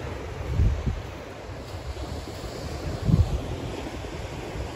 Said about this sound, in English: I gotta somehow catch some nice waves.